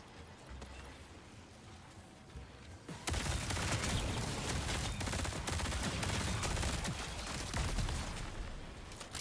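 Rapid video-game gunfire erupts into a loud, dense, continuous volley of overlapping shots that rattles on without pause after a quieter stretch.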